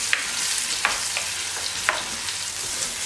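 Onions fry in a small amount of oil, a close, even sizzle broken by a few sharp spatula taps against the pan at irregular intervals.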